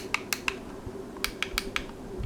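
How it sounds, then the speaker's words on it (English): A handful of sharp plastic clicks from a cheap game controller's buttons, two quick groups of three or four presses with short gaps, hollow and close, over a faint steady hum. "the button sounds pretty empty"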